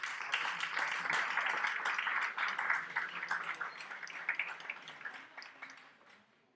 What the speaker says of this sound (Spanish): Un aplauso también para Facundo.